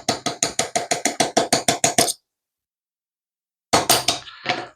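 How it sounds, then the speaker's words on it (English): Pin being punched out of an ASG Shadow 2 airsoft pistol frame, a rapid series of about a dozen sharp metallic taps, then a pause and a few more clicks, close and crisp. "Punch out the bottom pin."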